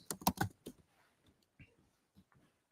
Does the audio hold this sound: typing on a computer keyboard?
yes